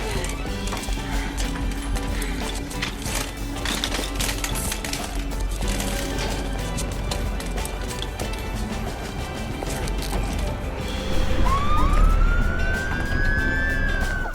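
A Mercy ambulance from the film The Gauntlet wails with a rising and falling siren amid busy movie soundtrack noise, the siren sweeping loudly near the end.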